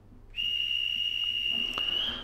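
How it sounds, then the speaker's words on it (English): A Minitrix N-scale BR 185 electric locomotive model with DCC sound sounds its departure whistle: one steady, loud high whistle tone that comes in abruptly and holds without a break, with no talk over it. "So the whistle, departure whistle, you flick it on, you have to turn it off yourself again."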